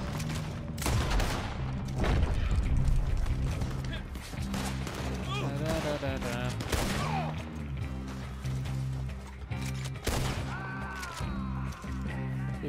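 Rapid gunfire bursts in the video game Red Dead Online crackle repeatedly while a voice talks over the shooting throughout.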